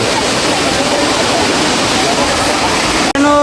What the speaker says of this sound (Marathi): मित्रांनो बघा असा एकदम एकदम भारी आणि झकास धबधबा आहे भाई सवतकडा